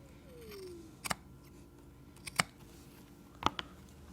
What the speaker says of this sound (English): with my shears cut off the excess